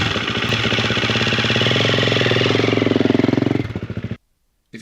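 A KTM dirt bike's electric starter whines steadily as it cranks the engine through a repaired sprag clutch, a close, loud, continuous churning drone lasting about four seconds before cutting off abruptly.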